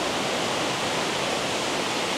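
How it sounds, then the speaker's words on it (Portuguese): Waterfall in Fukuoka, Japan, a steady, dense broadband rush of falling water heard alone at moderate volume, unchanging throughout. "a cachoeira."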